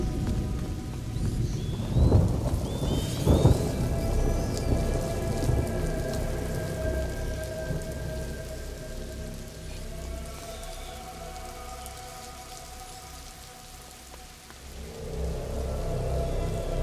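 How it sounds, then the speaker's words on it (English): Constant heavy rain hammers down in the video game A Plague Tale: Innocence, with a couple of deep rolls of thunder early on and the downpour continuing loud and steady throughout. "Lucas, Hugo, stay out of the rain."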